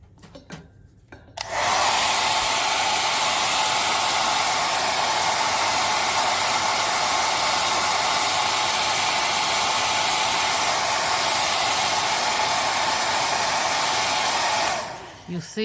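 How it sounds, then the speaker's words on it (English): Heat tool blowing hot air across mixed-media art journal paper, a loud steady broadband whoosh that starts after a brief pause and runs unbroken for about thirteen seconds before cutting off. "So heat tool."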